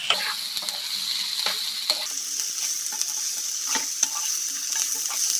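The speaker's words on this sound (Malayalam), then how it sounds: "കോളിഫ്ലവർ കൂടെ ചേർത്ത് നന്നായിട്ട് മിക്സ് ചെയ്ത് കൊടുക്കാം" Cauliflower is stirred into frying biryani masala, a high steady sizzle broken by repeated sharp spoon scrapes and knocks against the pan at an irregular pace, close and fairly loud, with no speech.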